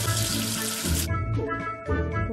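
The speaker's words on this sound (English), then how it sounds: "Wash away the soap with water." Tap water gushes into a sink to rinse soap away, a steady close stream that stops after about a second, followed by a few brief splashes and drips.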